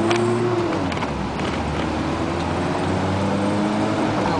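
A 1988 Isuzu Trooper 2.6 driving in fifth gear on a wet road with a failing transmission, a steady engine drone under road and rain noise with faint wavering whine tones, heard from inside the cabin.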